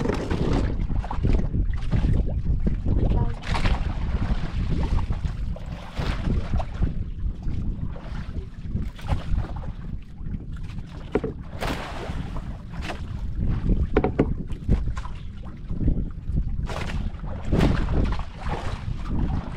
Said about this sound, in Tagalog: Ang grabing agos oh.